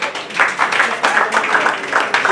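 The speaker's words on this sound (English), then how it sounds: "Let's clap for them." Wedding guests clap for the couple, loud close applause in uneven bursts with voices mixing in among the claps.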